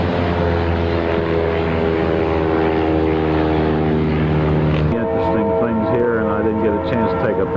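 A floatplane's propeller engine drones loud and close with a steady harmonic hum, then its pitch shifts partway through as the engine changes, set on frozen Alaskan water where planes land and take off.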